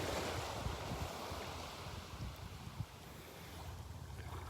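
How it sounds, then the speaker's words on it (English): Tiny ocean waves lapping on the shore at Delnor-Wiggins beach, a soft continuous wash with gentle surges, heard over steady wind rumble on the microphone, no voices. "Just the tiniest of waves washing up on shore now."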